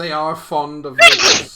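A single sharp sneeze bursts out near the end of a short stretch of close indoor talk, abrupt and loud against the speaking voice.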